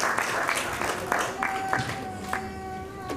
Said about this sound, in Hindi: आप सभी से अनुरोध है जोरदार तालियों के साथ उनका स्वागत कीजिए